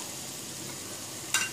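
Onions sauté in a pan for chana biryani, a steady soft sizzle with a brief sharper scrape or stir near the end.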